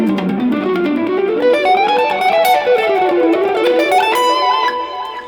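Jazz guitar lick played with alternate picking, a fast run of notes weaving up and down over a light effects tone and resolving on a B, continuous and close with no voice.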